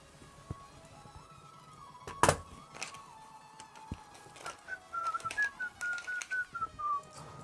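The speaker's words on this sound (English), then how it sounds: "Oh, sorry, whistling along with the music." A person whistles a wavering tune along with music while assembling a VORON v0.1 3D printer, the whistle rising near the end after a sharp knock and a few light clicks.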